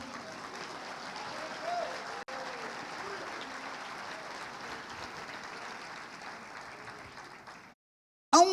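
Congregation applauding in a church service, a sustained wash of many hands clapping at moderate distance for about seven seconds before cutting off, with voices mixed in.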